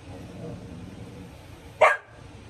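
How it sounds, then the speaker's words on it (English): A single short dog bark rings out sharply and fairly close for a split second, rising above a quiet indoor background. "My dog."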